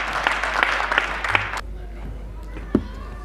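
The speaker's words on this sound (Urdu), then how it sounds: "آپ کی بھرپور تالیوں میں لندن سے اسلام سے تشریف لائے ہیں کامران زبیر کامی صاحب" An audience at an annual poetry mushaira in Portsmouth applauds in a dense burst of clapping that stops abruptly after about a second and a half, with a man's speech and a low hum under it.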